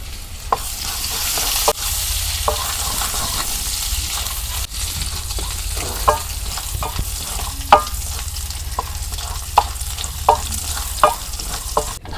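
Garlic and cumin seeds fry in hot oil for a sour green-mango dal, a steady close sizzle broken by sharp stirring scrapes and clicks of a spoon against the pan, with no voices.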